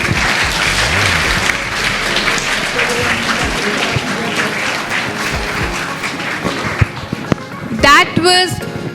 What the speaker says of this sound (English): A big round of applause for our performers.